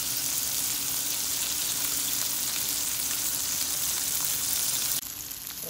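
Salmon fillets frying in a pan, a dense continuous sizzle and crackle of hot oil holding steady, ending with a brief clatter, no one speaking.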